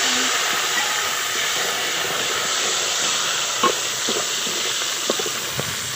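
Browned onions fry in a pan while green chillies and tomato are added, giving a steady close hiss with a few soft clicks and taps near the end.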